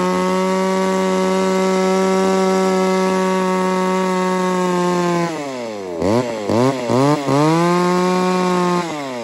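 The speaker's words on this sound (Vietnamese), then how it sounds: "tiết nổ con R3 này, con này cắt củi nấu rượu các kiểu quá ngon luôn" An R3 chainsaw engine, used for cutting firewood, runs loud and close at a steady high idle for several seconds, then revs up and down repeatedly in quick bursts before settling back to a steady drone.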